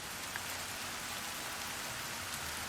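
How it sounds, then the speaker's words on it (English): Steady rain falling on a rainy day, an even, constant hiss of drops on surfaces without pause, fairly quiet and with no one talking. "It's raining."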